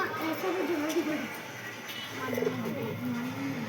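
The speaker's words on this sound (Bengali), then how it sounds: "এই দেখুন মাদি পায়রা।" Female pigeons at a pigeon dealer's shop coo in low, wavering tones, two drawn-out calls heard close by against a busy background, with people talking nearby.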